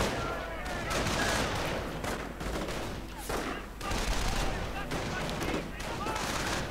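Gunfire from squads of grenadiers in a World War II strategy video game, dense overlapping rifle and machine-gun bursts with distant artillery thuds, continuous and loud, with a voice commentating over it.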